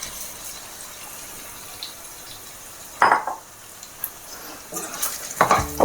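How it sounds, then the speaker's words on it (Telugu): Peeled, cut taro root tumbles into a pan with turmeric and is stirred, faint soft sizzling broken by a few sharp scraping stirs and clinks of the utensil against the pan. "దీంట్లో మనం పొట్టు తీసి కట్ చేసి పెట్టుకున్న చామదుంపలు వేసేసుకుందాం"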